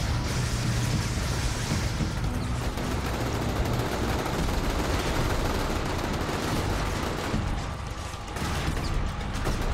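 Rapid gunfire from trash-bagger gang members shooting up a city street in the video game inFamous, a continuous loud barrage of overlapping shots and crackling bursts.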